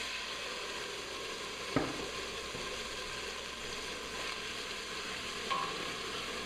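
Red wine poured into onions already browning in a hot pan, giving a steady low sizzle and fry hiss throughout with a couple of soft clinks, no voices.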